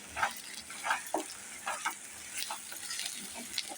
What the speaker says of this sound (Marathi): आणि चांगलं परतून घेऊया त्याला